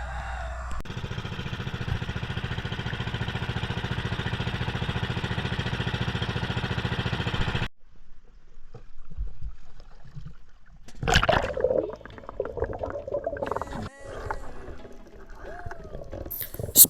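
A small boat engine drones steadily, then cuts out, followed by water splashing, knocks and handling noises nearby.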